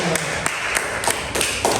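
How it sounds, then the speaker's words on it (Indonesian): Classmates in an Islamic religious education lesson applaud a group of girls with rhythmic, evenly spaced hand claps that ring out sharply over a noisy room, with some voices mixed in. "Tepuk tangan buat kelompok cewek."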